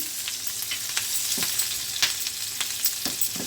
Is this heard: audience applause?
no